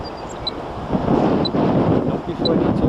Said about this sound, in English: The wind's even picked up more.